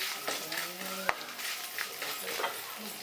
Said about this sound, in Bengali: হিং আর সমস্ত ফোড়ন আর আদা কুচি একটু ভালো করে নাড়াচাড়া করে নিলাম।